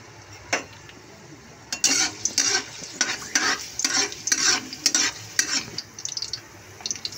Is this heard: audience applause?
no